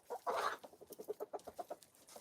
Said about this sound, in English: Those are some good roosters.